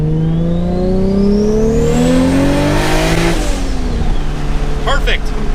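A Toyota Supra engine accelerating hard in second gear, a loud close rising roar that climbs steadily in pitch before the revs drop at a shift, with exhaust crackle afterward.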